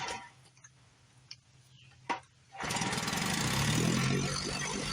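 A small outboard motor, bought cheap and cleaned up, fed by gravity from its fuel line, sits quiet with a few clicks and taps before firing up and running steadily at a close, moderate level.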